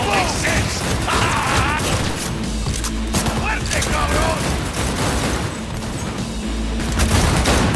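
Dense gunfire in Cyberpunk 2077, a continuous loud clatter of shots mixed with mechanical clicks and impacts, with voices heard amid the shooting.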